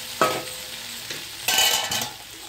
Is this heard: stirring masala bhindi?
yes